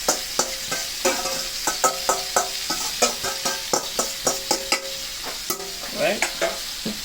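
Pork chops frying over medium heat in a pan as a sticky glaze sauce or marinade is added, giving a steady sizzle broken by repeated close scraping and stirring strokes, with no talking.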